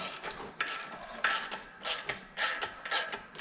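A ratchet wrench clicks in short, uneven bursts while tightening clutch bolts on a John Deere 7520 4WD tractor, close up with brief pauses between strokes.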